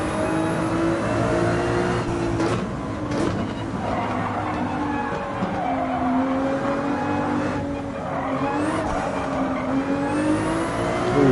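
Race car engine in Gran Turismo 7 on the Highway 1 time-attack course, revving and holding steady high-pitched tones with gear shifts, loud and continuous throughout with a brief tyre skid, no talking.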